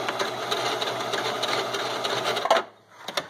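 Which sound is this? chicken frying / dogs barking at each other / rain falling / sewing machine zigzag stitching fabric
sewing machine zigzag stitching fabric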